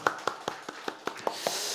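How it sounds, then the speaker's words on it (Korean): Applause from a church congregation during a Korean Parents' Sunday service: sharp, evenly spaced claps about five per second, moderately loud and close, over a faint room hum. "우리 박수를 좀 보내고 싶습니다"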